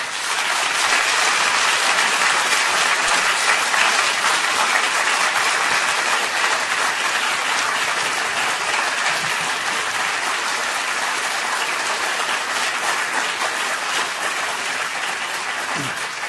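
Sustained applause from an audience at the Allard Prize human rights award ceremony, a dense steady roar of many clapping hands that stays loud and even throughout, with no talk.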